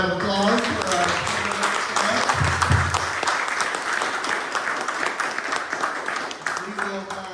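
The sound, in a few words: audience applause at candidate forum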